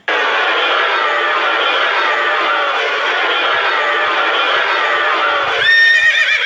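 Horses standing by chariots whinny loudly and continuously in a Tamil radio drama scene, a dense, sustained neighing with faint hoof and crowd noise beneath and a brighter, higher whinny near the end.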